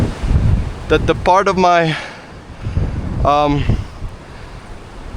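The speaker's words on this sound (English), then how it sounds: "it's so windy" Strong wind gusts through a jungle tree, buffeting the microphone with a low, rumbling roar while someone speaks briefly over it.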